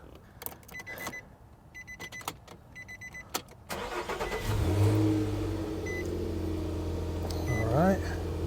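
A second-generation Nissan Xterra starts with a brief crank, catches and settles into a steady idle, preceded by clicks and a chime; a voice talks over the running engine.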